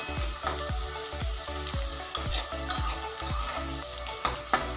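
Sliced onions deep-fry in plenty of hot oil to make birista, with a steady close sizzle and bubbling under regular scraping stirs of a spatula against the pan.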